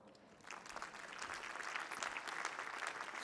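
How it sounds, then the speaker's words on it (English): An audience applauding during a foundation speech, clapping swelling up after a brief quieter start into a dense, even wash of many hands, heard from a distance in a large hall. "So it certainly does deserve a round of applause."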